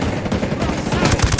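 Sniper rifle fire in the video game Ghost Recon Breakpoint, loud and close, a quick cluster of reports over continuous game noise.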